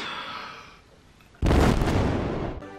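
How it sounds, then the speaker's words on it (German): A person draws in a breath and then lets out a loud, explosive sneeze that bursts suddenly and holds for about a second before cutting off, close to the microphone. "Und ich muss ja so niesen. Haltet euch fest, jetzt kommt ein Knall."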